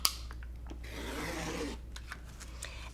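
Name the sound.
cutting cross stitch fabric with scissors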